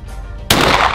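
A real shotgun fires a single sharp, loud blast that cuts in abruptly after a quiet outdoor moment, followed by a brief ringing decay.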